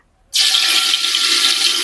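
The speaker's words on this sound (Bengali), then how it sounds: "তেলটা গরম হয়ে গেছে দিয়ে দিচ্ছি তেজপাতা" Bay leaves hit hot mustard oil in a cooking pot for khichuri, setting off a sudden loud, steady hissing sizzle that continues without letting up.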